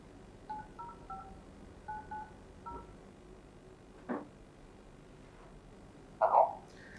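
A phone keypad beeps out a series of short touch-tone digits to place a call to a TV program caller, followed by a louder tone near the end, faint and otherwise quiet.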